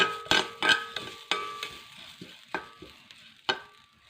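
Rice and pumpkin seeds dry-roasting in a hot pan give off sharp, irregular pops and crackles, several loud snaps early on, then thinner scattered pops over a soft frying hiss.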